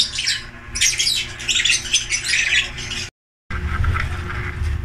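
Harsh, repeated squawks from a stressed bird in busy bursts, fairly close and loud, with a short break of silence before the calling resumes more softly.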